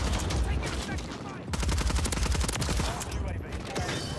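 Superi 46 submachine gun firing in Call of Duty MW3, rapid continuous automatic bursts close and loud, with a brief pause midway before firing resumes, and a voice talking underneath.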